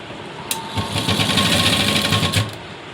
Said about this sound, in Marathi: इथे खाचेमध्ये आपल्याला शिलाई द्यायची आहे